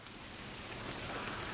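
Steady rain falls, a dense even hiss that stays constant and fairly soft throughout, with no voices.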